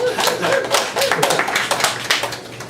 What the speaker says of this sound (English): clap your hands if you agree